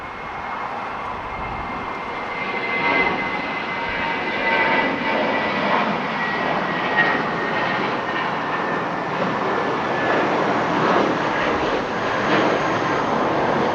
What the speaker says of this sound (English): I believe that's a United flight